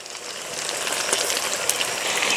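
Chopped tomatoes hit hot oil in a pan of simmering duck meat curry, giving a loud, steady hissing sizzle with crackling spatters throughout and no voices.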